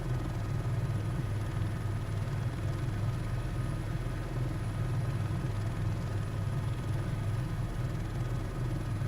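Helicopter in Microsoft Flight Simulator cruising over Utah, a steady low rotor and engine drone that holds at an even level throughout, with no talk.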